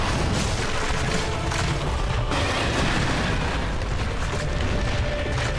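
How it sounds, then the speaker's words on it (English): Continuous loud booming blasts and crashing explosions from a dragon in Dark Souls 3, dense and rumbling without pause, no talking. "you have explosions now"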